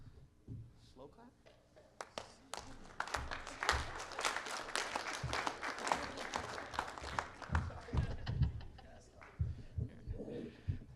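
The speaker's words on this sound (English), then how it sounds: "Slow clap?" Scattered applause from attendees at a general meeting, quiet and somewhat uneven, with individual claps building into a looser round in a room.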